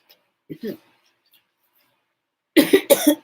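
A couple of short, sharp coughs, then a louder burst of several harsh coughs in quick succession, close to the microphone.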